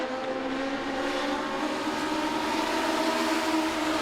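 Legends race cars roar around Langley Speedway in a steady, loud engine drone, several cars bunched together and passing close by without a break.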